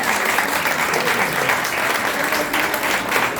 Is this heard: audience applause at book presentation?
yes